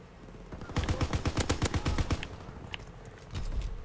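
An MG 81 light machine gun in a WWII multiplayer video game fires a rapid, loud burst of about a dozen rounds, followed by fainter scattered game sounds.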